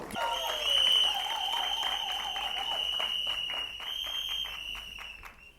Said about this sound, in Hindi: सोहम सर के लिए एक बार जोरदार तालियां हो जाए।